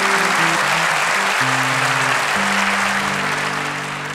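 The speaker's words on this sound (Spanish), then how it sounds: "Un fuerte aplauso para él, muchas gracias." Sustained applause from a theatre audience at a live comedy show, a dense, even wash of clapping that holds steady and fades slightly at the end, with no voices over it.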